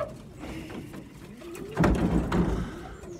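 Racing pigeons in a loft give soft, repeated coos, rising to a fuller, louder burst of cooing near the middle before settling back, with faint background rustle.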